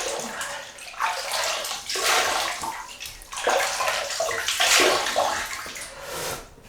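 Running water wetting a shaving brush and a Lever Brothers Easy Shave Stick, a steady close splashing rush with swells and gurgles, no voices.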